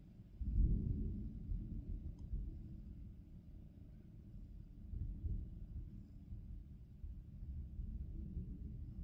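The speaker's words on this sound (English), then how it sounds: "It's still thundering out there" Low, continuous thunder rumbles outside, swelling near the start and again later as a distant, muffled roll heard from indoors.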